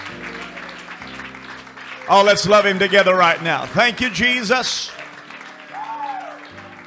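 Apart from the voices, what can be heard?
congregation clapping hands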